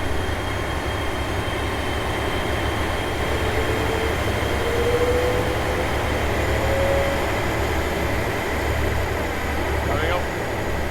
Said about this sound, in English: And let's see this train off.